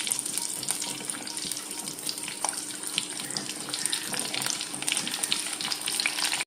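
Whole onions dropped into hot oil and frying briefly, a bright crackling sizzle with rapid pops, steady and close.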